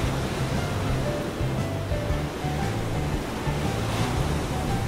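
Ocean surf rolls in steadily on a beach, a loud, continuous wash of breaking waves with wind rumble and no voices.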